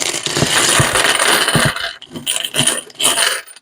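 Loose pocket change spills and clinks as coins from a large Ball jar are handled, a dense rattling jingle at first, then breaking into a few separate bursts of clattering metal.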